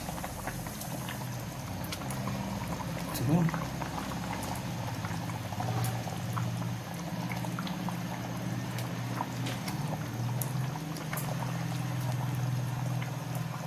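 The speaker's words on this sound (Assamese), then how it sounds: "অলপ পানী দি বইল কৰি দিওঁ" Meat boiling in a little water in a covered pot, a steady low bubbling and simmering that carries on without pause, with a brief louder clatter partway through and no talk over it.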